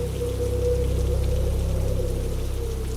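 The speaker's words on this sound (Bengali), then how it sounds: "বাইরে তখন তুমুল ঝড় বৃষ্টি।" Heavy rain in a storm used as a sound effect for an animated horror story, a constant full roar of pouring water with a deep low rumble beneath, steady and loud with no voices.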